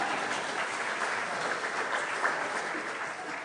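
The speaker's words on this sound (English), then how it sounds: "Well, then you can applaud now." An audience applauds after a recited poem, with a steady, dense clapping that holds at a moderate level for a few seconds without any voices.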